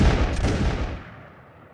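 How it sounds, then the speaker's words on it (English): A sudden volley of gunshots cracks out loud and close, a dense burst of overlapping reports that rolls into a fading echo within about a second. "there's a big volley of shot"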